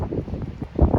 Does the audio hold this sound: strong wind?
yes